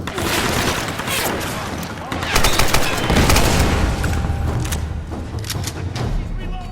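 Gunfire and explosions ring out in the Tomb Raider video game, a dense loud barrage with heavy booms swelling in the middle and continuing to the end, with no speech over it.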